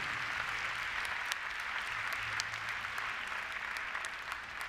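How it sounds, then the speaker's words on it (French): A crowd applauds at an international show jumping event in Bordeaux, the clapping broad, steady and somewhat distant, with a faint announcer's voice underneath. "Et vos applaudissements à nouveau"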